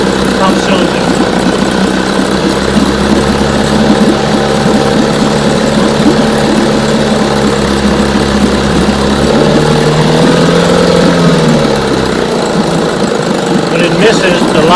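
A running outboard motor with a misfiring top cylinder drones loudly and steadily up close for the whole stretch, its low engine hum shifting slightly near the end.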